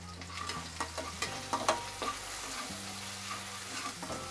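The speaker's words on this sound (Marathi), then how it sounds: "हे बघा आता आपलं हे लसूण आणि आलं चांगलं भाजलेलं आहे" Garlic and ginger roasting in a pan give off a soft, low sizzle, broken up by several light scrapes and taps of a stirring spoon. The sound is quiet and close, with no voices.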